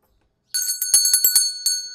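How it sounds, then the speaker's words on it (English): A small metal bell rings out alone in a quick run of bright, clear strikes after a moment of silence, several sharp chimes tumbling close together as if dropped and bouncing. "I think I'm gonna drop the bell every time I come up with a message"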